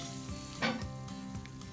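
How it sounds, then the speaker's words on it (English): Pork tenderloins seared over an open fire, giving a steady close crackling sizzle with a few brief sharper pops and spits, alone with no talk. "So the pork tenderloins are seared off just the way I want them."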